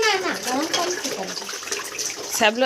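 Hot water pours steadily into a vessel while household washing goes on, a constant rushing gush running the whole time with a voice speaking over it.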